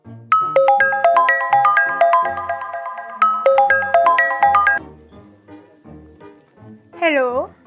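Phone ringtone plays a bright repeating melodic jingle twice, loud and close, followed by quiet shuffling and a short voiced sound at the end.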